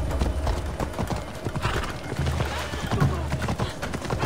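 Horse hooves clip-clopping at a steady gallop rhythm while riding through Assassin's Creed Odyssey, a continuous run of thuds with some speech faintly underneath.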